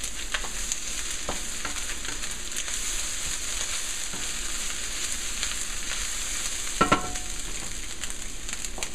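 Spam and kale fried rice frying with sesame oil, a dense continuous sizzle filling the whole stretch, with scattered crackles and a brief clatter of stirring near the end.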